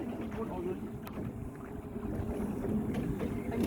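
A fishing boat backs away on the sea off Narathiwat, its engine a steady low drone mixed with water and wind noise, with voices talking faintly over it.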